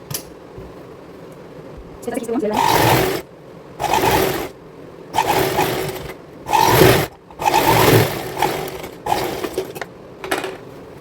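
Sewing machine stitching elastic into a child's palazzo, running in about six short bursts with brief pauses between them, close and fairly loud.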